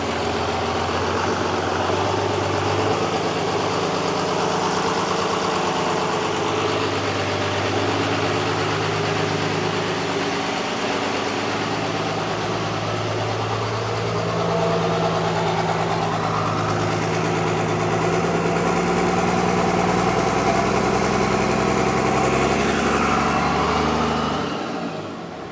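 A 24V Cummins diesel engine in a Jeep YJ idles steadily for a long stretch, a loud, deep rumbling drone with shifting low tones, close by and uninterrupted by speech.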